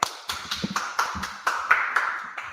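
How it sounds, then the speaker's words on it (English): Sharp, separate hand claps ring out in a slow, uneven sequence of about ten, close and fairly loud, during an online scripture class in Charlotte, North Carolina. "Clap it up."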